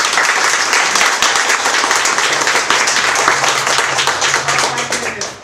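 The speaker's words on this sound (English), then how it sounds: "give staff a round of applause" Audience at a book signing event breaks into sustained applause for the event staff, dense clapping filling the room steadily for several seconds before beginning to taper.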